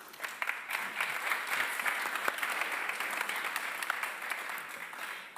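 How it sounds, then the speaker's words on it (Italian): Audience applause at an Italian conference on artificial intelligence, where steady, even clapping from a crowd carries on for the full few seconds at a moderate distance, with no talking over it. "Prego, un applauso."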